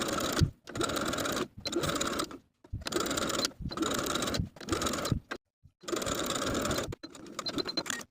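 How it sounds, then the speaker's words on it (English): A sewing machine top stitches binding around a garment armhole in a series of short whirring runs broken by brief pauses, close and distinct with no voices. "I'm going to top stitch all the way around with a 1/2 inch seam allowance and repeat for both armholes."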